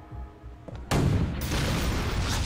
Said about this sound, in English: This is Resident Evil 4, I'm just gonna rocket everything.